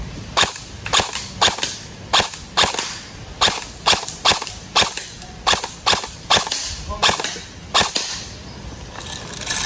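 An airsoft rifle fires semi-auto in a clear, evenly paced string of about fifteen to twenty sharp, loud cracks, each one standing alone with short gaps between.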